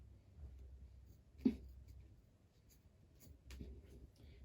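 Faint, scratchy snips of scissors working at fabric, a few brief crunching cuts spread out against quiet room noise.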